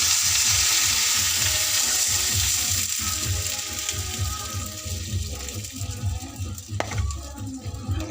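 Pork leg for crispy paksiw na pata frying in hot oil, a loud continuous sizzle and crackle with a bubbling low rumble, close and steady throughout.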